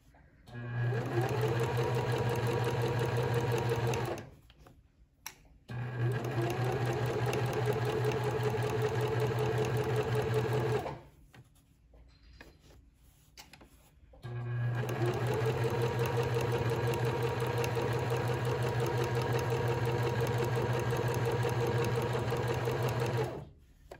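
A sewing machine stitches fabric for a flat iron case, running in three long steady bursts with two short pauses between, its motor hum loud and close.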